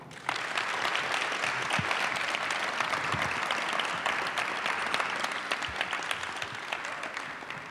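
A studio audience applauds steadily for basketball guest Mario Elie, a dense, sustained wash of clapping that holds at an even level throughout with no talk over it.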